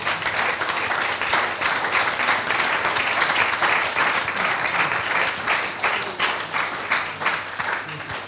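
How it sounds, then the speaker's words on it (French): Sustained audience applause closing a conference talk in an office overlooking the Eiffel Tower, dense and steady throughout with many hands clapping at once, no talking over it. "Je pense qu'on peut vous applaudir."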